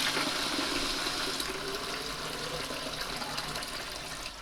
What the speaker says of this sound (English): I'm now going to let it wash for 10 minutes.